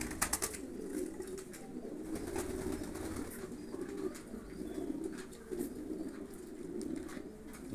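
Pigeons coo steadily in a soft, layered chorus at a rooftop pigeon loft, with a few brief flutters near the start.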